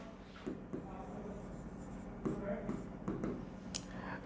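Notes being written by hand for a chemistry lesson, soft scratchy pen strokes with a few firmer taps, close and fairly quiet, with a voice speaking over them at times.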